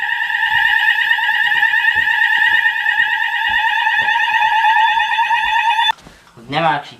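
A fire alarm sounds during a weekly test set off at a smoke detector, a loud, close, warbling electronic tone that holds for about six seconds and then cuts off, with a voice speaking under and after it.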